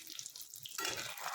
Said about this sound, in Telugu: పోపు కూడా బాగా వేగిపోయింది